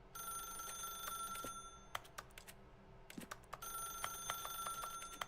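A telephone rings in The Stanley Parable, a bright repeating electronic ring that cuts off and resumes in bursts, with sharp clicks and taps scattered between the rings.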